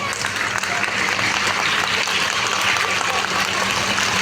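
An audience at an Aksharabhyasa ceremony claps in a dense, steady round of applause that carries loud and unbroken through the whole moment.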